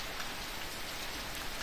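Heavy rain pours down steadily as a dense, even wash of drops, loud and close throughout, with no voices.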